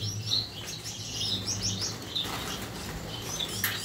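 Gouldian finches, a flock kept for breeding, chirping steadily and close by: bright overlapping tweets and short calls repeat throughout over a soft, continuous background rustle.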